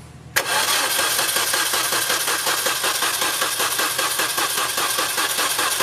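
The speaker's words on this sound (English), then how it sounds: "go ahead and crank it." A car engine cranks slowly on a weak, nearly dead battery during a compression test, a steady rapid rhythmic churning that starts abruptly and continues loud and close with no talk.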